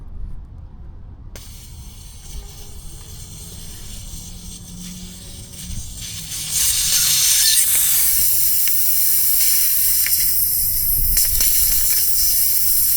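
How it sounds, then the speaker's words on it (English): Air hisses out of a car tire with its valve stem pulled, starting around the middle as a loud, steady broadband rush that keeps going to the end, following quieter low rumble. "We're gonna pull the actual valve stem out and let all the air out."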